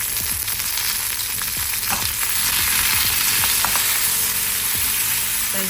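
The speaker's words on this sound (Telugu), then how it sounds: "వీటిని లైట్గా ఫ్రై చేసుకొస్తాము" Cashews and garam masala spices fry and sizzle in a pan, a steady close hiss broken by occasional scraping stirs, with no one speaking.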